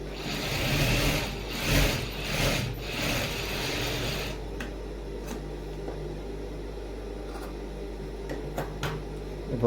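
A sewing machine runs in a steady close whirr while stitching down the folded top edge of a shirt pocket, lasting about four seconds before stopping, leaving a low hum and a few faint clicks.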